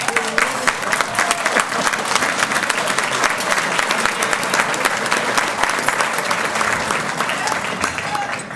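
A large conference audience at a county legislative gathering breaks into dense, steady applause, loud and sustained throughout.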